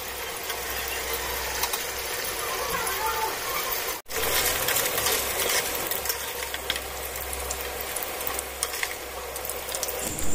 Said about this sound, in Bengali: কড়াইতে তেল গরম একটু হালকা হয়ে গেছে, তাই পনিরগুলো আমি দিয়ে দিলাম